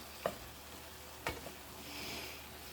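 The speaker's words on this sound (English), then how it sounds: "Stir that up in there." Diced tomatoes being stirred into a beef macaroni and cheese casserole, giving two brief, close spoon scrapes against the pot with a soft wet churn fading in afterward, no voices over it.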